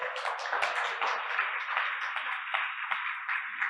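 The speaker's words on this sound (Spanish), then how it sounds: "Otro aplauso para Tere, por favor." Audience applause in a church, a steady wash of many hands clapping from a crowd, moderately distant and sustained evenly for the whole stretch with no voices over it.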